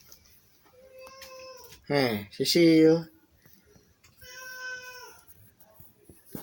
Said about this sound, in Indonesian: Kan kamu teh kucing